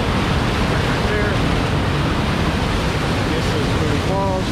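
Steady, loud roar of Mooney Falls at Havasupai, a dense unbroken rush of falling water heard up close, with a faint voice briefly surfacing beneath it.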